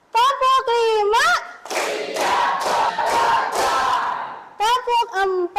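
Schoolchildren in a classroom clap in a rhythmic clapping game, a run of quick claps sandwiched between loud group chanting at the start and end.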